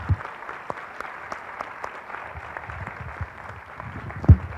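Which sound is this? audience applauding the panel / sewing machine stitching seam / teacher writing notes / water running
audience applauding the panel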